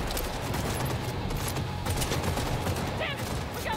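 Dense, continuous gunfire in Cyberpunk 2077 where a revolver is in use, a busy fusillade of shots and impacts running steadily throughout with no clear single-shot rhythm.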